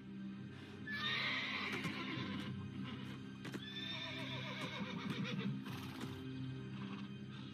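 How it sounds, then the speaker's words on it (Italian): A stallion neighing loudly, with two long shrill whinnies close by, the second trailing into snorts, and scattered hoof clops and thumps between them. "ma lo stallone sembra indomabile"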